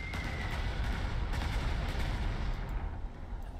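Artillery fire in the World War II strategy game Panzer Corps 2, a dense steady rumble of booms and blasts sustained at an even level throughout, with no voices.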